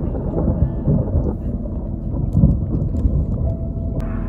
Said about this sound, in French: il pleut. Je suis arrivée juste avant l'orage.